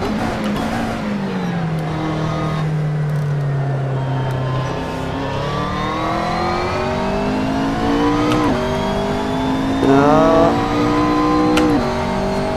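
McLaren MP4-12C GT3 race car in Assetto Corsa, its engine note sweeping down then climbing through repeated upshifts, loud and close with brief shift breaks, no talk.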